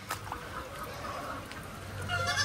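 Ducks or native chickens out in a farm field, scattered honking and quacking calls over a low outdoor rumble, moderately near.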